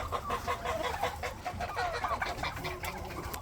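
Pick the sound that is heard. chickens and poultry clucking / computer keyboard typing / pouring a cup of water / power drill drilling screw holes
chickens and poultry clucking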